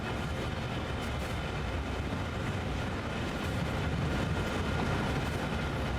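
Rear locomotives of a freight train on the Sand Patch Grade in Train Sim World 2 give off a dense, continuous rumbling roar with wind-like rush, steady and unbroken throughout, with no voices.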